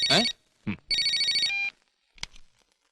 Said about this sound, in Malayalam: എനിക്കിതാ വേറെ ഫോൺ വന്നിരിക്കുന്നു.